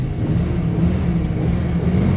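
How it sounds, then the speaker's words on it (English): A Rover P6 3.5 V8 engine runs with a steady, loud low-pitched rumble, heard close and unbroken with no talking over it. "The Rover P6. It's a legendary piece of machinery."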